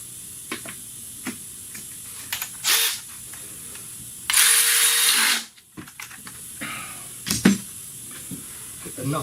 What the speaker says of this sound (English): Now I can bolt this back on.